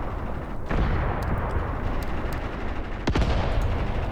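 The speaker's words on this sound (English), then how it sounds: "The howitzers are still going through their ammunition allotment." Howitzer artillery fire in the war game Graviteam Tactics Mius. A dense, loud rumble of battle carries two sharp heavy blasts, one near the start and one past the middle, over a continuous low roar.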